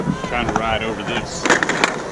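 Skateboard wheels roll and clatter while riding over an obstacle outdoors, with rumbling and a few sharp knocks, as a person speaks over the noise.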